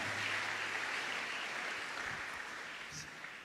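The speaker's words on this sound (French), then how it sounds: "Acclamons cette parole" A church congregation applauds during a sermon, a steady, sustained wash of clapping and cheering at moderate distance that slowly fades toward the end.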